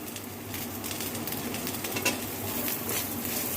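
Raw banana and potato curry with black cumin powder being stirred in a pan, a continuous close sizzle with scraping spoon movements over the frying, no voices.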